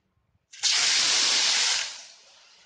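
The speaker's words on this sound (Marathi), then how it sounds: "तेलाच्या आगीत पाणी लागल्याच्या नंतर काय होतंय ते पाहून घ्या तुम्ही" Water poured on burning oil during fire safety training: a sudden loud hiss and roar bursts out, holds steady for over a second, then fades away, close by with no voices.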